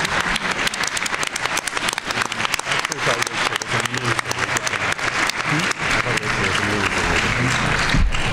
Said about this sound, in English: One more round of applause for our speakers.